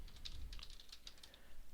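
Keystrokes on a computer keyboard while Java code is entered, a quiet, close, uneven run of light clicks with no talk.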